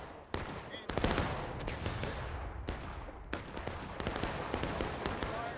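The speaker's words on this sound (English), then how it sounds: "Some arty shots coming in." Artillery and rifle fire in the Civil War video game War of Rights, with sharp repeated booms and cracks over a steady battlefield din, loud and dense, with some talk mixed in.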